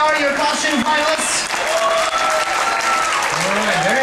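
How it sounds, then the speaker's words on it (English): Applause from a cruise ship audience at a Halloween costume contest fills the room in a steady wash of clapping, with a host's voice talking over it. "Give them a nice round of applause."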